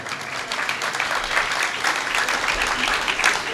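Applause from a temple audience honouring a man who keeps ten fasts each year, steady clapping from many hands throughout, fairly close with no speech over it.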